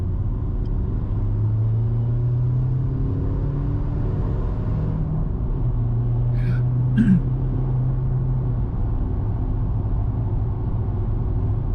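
Skoda Fabia vRS with a 1.9 TDI PD130 diesel pulling hard on the road, a steady loud engine drone with rising tones heard from inside the car, no talk over it.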